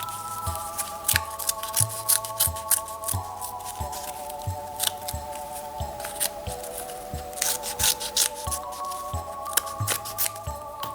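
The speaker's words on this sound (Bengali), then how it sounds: "এটা কেটে নিচ্ছি একটু ছোট করে সাইজ করে।" Scissors snip repeatedly through a small craft piece being trimmed to size for a plastic bottle decoration, making steady close cuts amid soft handling noises and faint background music.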